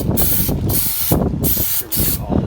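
Aerosol cleaner sprays onto the wheel hub of a 2016 Range Rover HSE TD6 before a new brake rotor goes on, several loud close hissing bursts separated by brief pauses.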